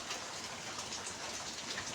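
Steady rain falls on a rainy day, an even, dense hiss of drops hitting surfaces that stays constant and close throughout, with no voices.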